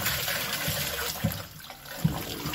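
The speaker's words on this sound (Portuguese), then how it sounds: "Agora eu vou pôr o álcool." Fuel-grade ethanol being poured into a homemade liquid soap mixture, a steady liquid splash and trickle running through the whole stretch at moderate level, with a few brief knocks and no talk.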